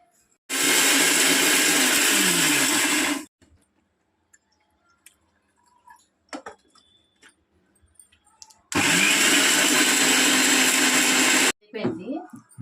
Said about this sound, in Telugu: అల్లం వెల్లుల్లిపాయ ధనియాలు గసగసాలు అయ్యి ఇవి మిక్సీ పడతాం